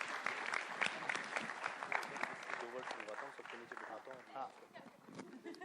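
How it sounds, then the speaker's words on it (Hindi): A crowd applauds as actress Alia Bhatt comes on stage at a film trailer launch, busy clapping running throughout while a loud voice talks over it. "लेडीज एंड जेंटलमैन, प्लीज जोरदार तालियां for our S actress Alia Bhatt."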